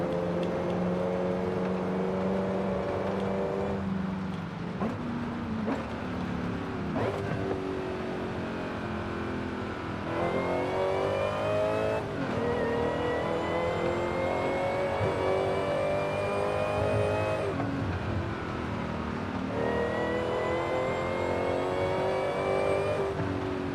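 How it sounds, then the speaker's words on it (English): A sports car engine in the video game Forza Horizon 5 hums steadily as it cruises in sixth gear, its pitch rising and falling through gear changes, loud and close with no talking. "I gotta stop talking so you can hear the car more."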